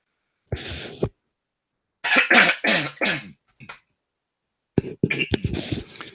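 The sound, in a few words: cough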